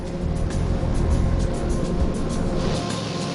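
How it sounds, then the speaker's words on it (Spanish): Airliner engines droning steadily in flight, a constant low, dense roar with a faint hiss above it and no pauses, heard from inside the cabin. "Los motores suenan bien, señor Fiore."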